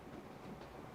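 A new-generation train rolls past in the simulation game Transport Fever, a steady low rumble with faint clatter, moderately quiet and continuous throughout, with no one talking.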